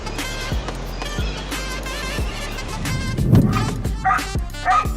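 A pit bull barking at a tiger, repeated sharp barks and yips in an uneven rhythm over music, fairly close, with a brief rougher growl-like burst midway.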